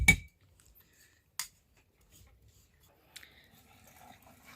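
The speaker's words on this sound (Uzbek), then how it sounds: "3 litrlik bankaga osh qoshiqda 2 qoshiq tuz solinadi" A tablespoon clinks against a 3-litre glass jar as salt goes in for homemade pickles. There are a few sharp, separate taps with near silence between them and soft rustling toward the end.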